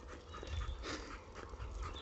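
Dogs panting on a lockdown walk, a steady close breathy rhythm with faint snuffling and soft whimpers, no one talking over it.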